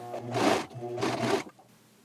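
A sewing machine runs a double row of stitching along shirt fabric for a slim fit shirt, two close, steady whirring bursts separated by a short pause, with no voices.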